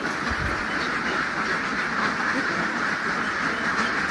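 Ducks quack steadily on a duck farm, a dense continuous chorus of many birds close by with no talk over it.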